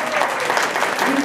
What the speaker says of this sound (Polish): Brawa serdeczne.